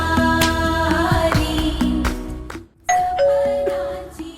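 A household doorbell chimes twice, a loud close ding-dong, with a brief silence between rings.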